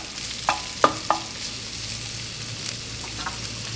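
Onion and hotdog sautéing in a pan for a Filipino appetizer, a faint steady sizzle with a few sharp spatula taps and scrapes against the pan, no voices.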